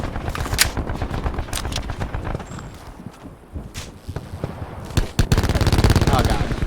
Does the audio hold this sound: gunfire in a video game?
yes